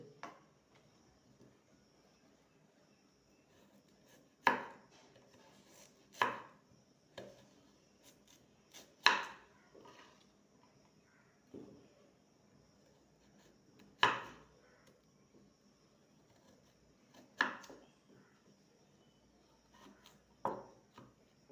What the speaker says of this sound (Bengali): দেখতে পাচ্ছেন এরকম গোল গোল করে কেটে নেব প্রত্যেকটা কচুকে